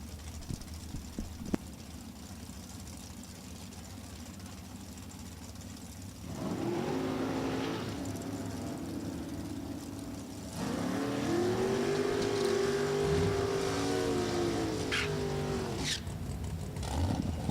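A 1963 Chevrolet Corvette drag car with a 588 cubic inch engine roars down a Super Gas drag strip, its engine note surging in two rising stages after a quieter idle, loud and sustained before easing off.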